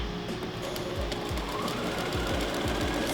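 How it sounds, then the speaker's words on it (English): A sewing machine runs in steady bursts while stitching a fabric face mask, its needle chattering in a rapid mechanical rhythm with short back-stitch pauses, loud and close with no talking. "Now I'm gonna set my needle, take a few stitches, back stitch a little bit"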